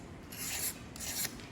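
Old head gasket material being scraped off the deck of a 2.0 TFSI engine block: two soft, raspy scraping strokes at close range, each rising in loudness and ending abruptly, with no voices.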